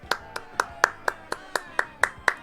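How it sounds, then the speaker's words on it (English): Nine evenly spaced single claps, each a sharp crisp slap, in a slow steady rhythm; a lone pair of hands rather than a crowd. "Round of applause."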